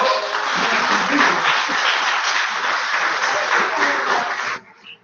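An audience at an award ceremony claps steadily for several seconds, a dense wash of applause that fades out abruptly at the end.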